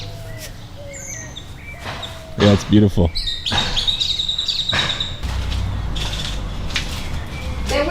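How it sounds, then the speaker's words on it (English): Morning birds chirp and whistle in repeated short calls at a Mexican countryside retreat, while people talk briefly close by and a few knocks and rustles come from nearby. "In the morning, the birds. Oh, you still hear them."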